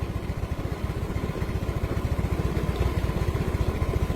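A Yamaha Mio M3 scooter engine idling close by with its battery's negative cable disconnected, a steady rapid putter of even pulses that holds at constant speed with no talk over it.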